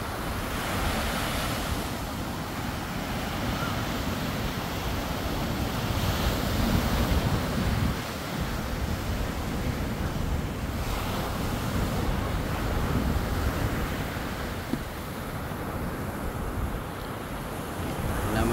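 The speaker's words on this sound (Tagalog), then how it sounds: "Ito ang dagat ng Japan mga cute." Sea waves wash continuously onto the Japanese coast, a loud, steady surf roar with gusting wind buffeting the microphone throughout, no voices heard.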